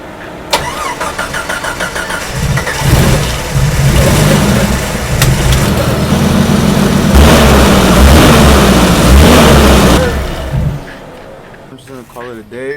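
A 1988 Jeep XJ engine with a leaking cooling system cranks and catches, then runs loudly close by with a rough idle and some revving before settling down, while people talk nearby.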